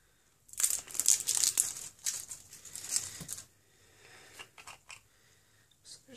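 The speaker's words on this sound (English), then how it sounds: "Let's see if I can get the plastic off to show you guys." Plastic wrapping crinkles and tears as it is peeled off a Pixi Beauty Blush Duo compact, close and crisp in a burst of handling at first, then fading into sparse, quieter rustles.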